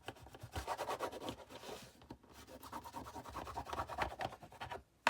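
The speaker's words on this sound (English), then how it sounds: "Make sure it gives a good stick, so you want to make sure you burnish it down really well." Paper cover being burnished down onto a handmade tag album, heard as repeated close, scratchy rubbing strokes with a brief pause midway.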